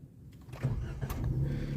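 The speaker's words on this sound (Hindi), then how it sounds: "अभी इसका मैं आपको इग्निशन ऑन करके दिखाता हूँ" A 2023 Suzuki Alto cranks and its engine catches, a short starter whirr rising into a steady close idle with no talk.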